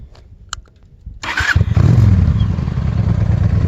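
A motorcycle fitted with an aftermarket exhaust starts up after a brief crank, its engine catching sharply and settling into a loud, steady rumble close by.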